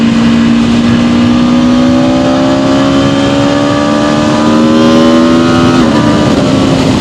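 A 2026 Aprilia RSV4 Factory motorcycle engine revs loudly and climbs steadily in pitch as the bike accelerates, short of full throttle, then dips briefly near the end and carries on under a constant roar of wind.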